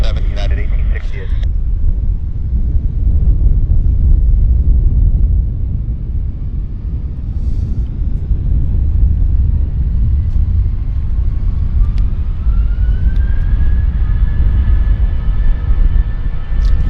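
Airliner taking off from runway 26 left at Vancouver airport, a steady broad roar of jet engines with a slowly rising whine, loud and continuous, with a brief burst of radio chatter at the start.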